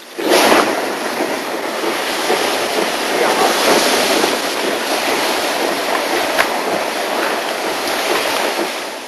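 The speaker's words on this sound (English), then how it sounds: "At last it can be pulled out and plunged into water." A hot iron bloom from a traditional African charcoal-fired smelt is plunged into water, giving a loud, steady broadband hiss and sizzle with a sharp burst near the start and a few crackles along the way.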